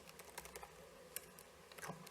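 Quiet keystrokes on a computer keyboard tap out in short irregular clusters, close and faint, with no talk.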